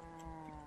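A video game cow moos in a low, drawn-out tone over a steady electronic background hum, brief and fairly quiet.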